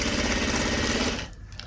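Domestic sewing machine running a fast stitching burst on a blouse sleeve, a steady mechanical whirr for about a second before stopping and leaving faint room noise.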